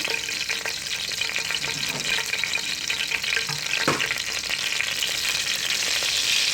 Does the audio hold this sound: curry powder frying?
yes